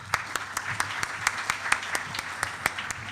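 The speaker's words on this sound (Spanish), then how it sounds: "Un aplauso, por favor." Applause from an audience at a corporate shared-services conference in Uruguay, with a few sharp, evenly spaced claps standing out over a steady wash of hand-clapping from the room.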